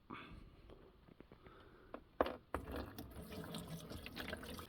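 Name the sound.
water running through a newly installed van sink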